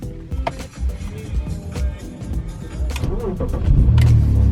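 A BMW E46 330Ci starting from cold at a diagnostic station: the engine cranks with uneven low pulses, then catches and rises into a louder, steady run close by.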